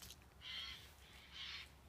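Birds call outside in two drawn-out, raspy cries about a second apart, faint and distant against quiet background noise.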